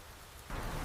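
Steady rain noise switches on halfway through, a broad hiss of falling rain that stays even and fairly loud, alone with no voices, suggesting an overcast, cloudy day.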